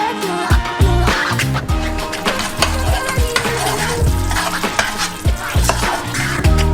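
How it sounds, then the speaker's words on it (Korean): Caramel boiling in two pots on a stove, being stirred toward 147 degrees with colouring mixed in; continuous loud bubbling and utensil scraping against metal, close and busy throughout. "스토브 위에 올리고 147도까지 끓이고 색소도 섞어줘요."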